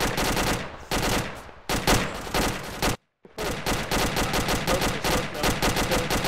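Heavy sustained automatic gunfire in the military game ArmA 2, loud and close, rattling in long dense bursts with a brief total dropout midway before the shooting resumes just as fiercely.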